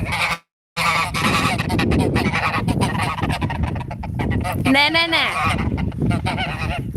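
Homestead geese honk loudly in a noisy burst amid wind and general rustle, with a brief spoken word near the start.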